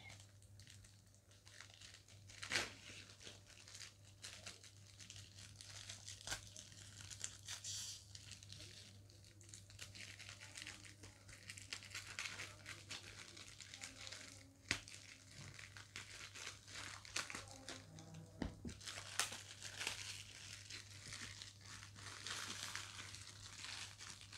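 Polythene packaging crinkling and crackling as it is peeled off a jute craft sheet during an unboxing, close and continuous with irregular sharper crackles and rustles, fairly quiet overall.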